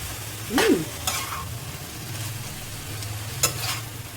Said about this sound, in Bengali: এখন আমি এটা ভালো করে মিক্স করব।